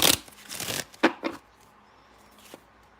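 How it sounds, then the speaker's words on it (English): Tarot cards shuffled by hand: a few quick papery riffles and slaps in the first second and a half, then a faint soft tap, close and fairly quiet. "Let me just shuffle these."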